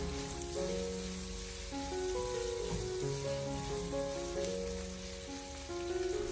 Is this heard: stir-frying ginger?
yes